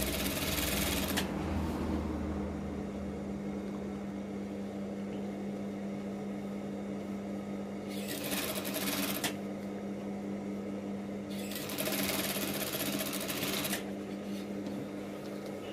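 An electric sewing machine stitching fabric for casual drawstring shorts, with two or three bursts of fast mechanical whirring and needle clatter separated by quieter stretches of low steady hum.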